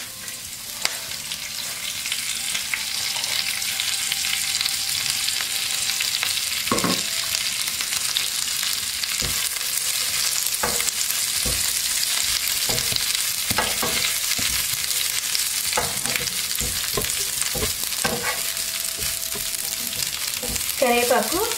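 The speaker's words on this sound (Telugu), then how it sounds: "ఆయిల్ వేడయ్యాక మనం ఇప్పుడు కరివేపాకుని వేయించేసుకుందాం." Curry leaves frying in a spoonful of hot oil in a pan: steady, loud crackling sizzle throughout, with scattered pops and occasional stirring scrapes.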